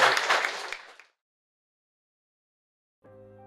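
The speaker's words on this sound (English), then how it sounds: "Let's give them a big round of applause" Applause breaks out at a robotics competition. A loud burst of clapping fades away within about a second and is followed by silence, then a short tonal musical sound.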